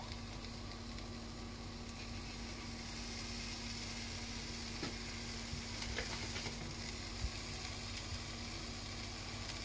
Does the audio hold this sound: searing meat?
yes